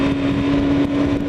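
A BMW S1000RR sportbike engine pulls hard at high revs, a loud, continuous drone with a steady whine on top and rushing wind underneath, with no voices.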